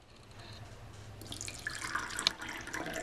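Water pours into cups at home, a steady splashing trickle that brightens and grows a little louder partway through. It is close, with a few small drips and clinks and no voices.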